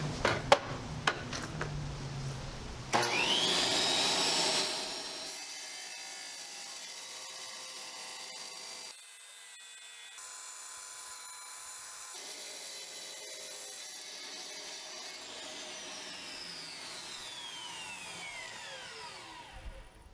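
A Dewalt tile saw whines as it spins up and bites into tile, giving a harsh grinding cut that eases into a steady motor hum and then winds down, close and continuous, with no talking.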